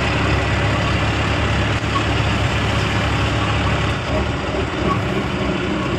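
A 2001 pickup truck's engine rumbles steadily through a turn, a continuous low, heavy drone with a faint shift in tone partway through.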